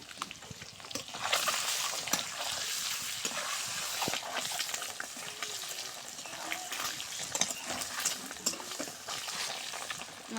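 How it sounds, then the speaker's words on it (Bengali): Eggs fry in hot oil seasoned with turmeric and salt, giving a continuous, fairly quiet crackling sizzle with small pops and no voices. "তেলটা গরম হয়ে গেছে, আমি ডিমগুলো দিয়ে দিব"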